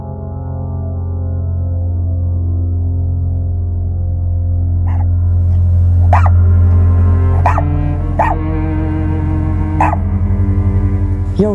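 Dogs bark in a video game, with about six sharp, separate yaps spaced a second or so apart, ringing out over a loud, steady humming drone of background music.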